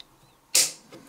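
A Victorinox Swiss Army knife tool snaps shut with a single sharp, close metallic click, followed by a faint softer tap, with no talk.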